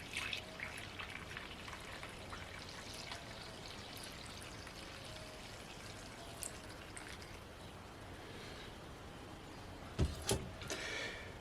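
Lukewarm water pours into bread flour in a soft, faint, steady trickle that runs for several seconds, with a sharper knock near the end.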